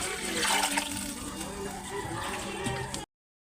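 Water poured into a cooking pot of sardines in a home kitchen, a steady splashing, gurgling stream for about three seconds, close by and fairly loud, then stopping abruptly.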